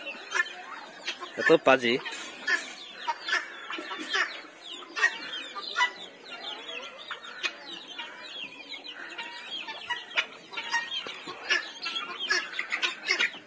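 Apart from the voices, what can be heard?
chickens and turkey clucking, turkey chasing birds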